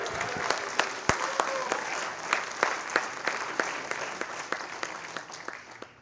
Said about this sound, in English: so let's give Joey and Monica another round of applause.